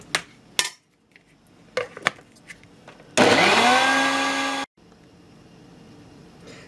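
Amid a few kitchen clanks and knocks, a small blender jar grinds hot peppers with garlic and herbs for Yemeni shug sauce in one loud, whirring burst of about a second and a half that then cuts off abruptly.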